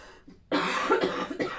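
A single harsh cough, close and fairly loud, lasting about a second after a quiet moment.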